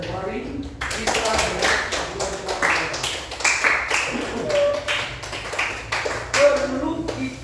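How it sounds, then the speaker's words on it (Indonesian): Students in a classroom clap in a short, uneven round of applause, close and somewhat sparse, with talking mixed in over the clapping. "Tepuk tangan untuk Januari."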